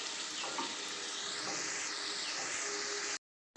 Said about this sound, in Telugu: ఆయిల్లో ఫ్రై అయిపోయినాయి